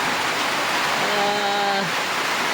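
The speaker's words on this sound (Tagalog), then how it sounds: "ipapakita ko sa inyo na umuulan" Rain pours steadily outside in a garden, a dense even hiss filling the whole moment, with a brief faint tonal voice-like sound over it partway through.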